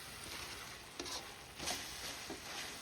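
Creamy spaghetti stirred and frying in a pan, with soft continuous sizzling broken by a few scraping stirs, faint and close, with no voices.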